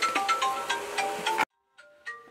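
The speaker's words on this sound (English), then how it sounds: "Okay, I'm just going to let that ring." A phone ringtone plays a quick melodic pattern of tones for over a second, then cuts off before a few faint tones return, moderately quiet with no talk.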